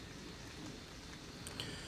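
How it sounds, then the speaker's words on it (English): Light rain falls outdoors during an infantry squad training drill, a soft, even hiss of drops with a few faint individual taps, no one speaking. "There's a little bit of raindrops around."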